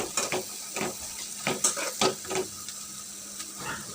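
Garlic and onion fry in a pan, with a soft sizzle under clinks and scrapes of a utensil stirring, coming in brief irregular bursts at close range and fairly quiet, with no talking.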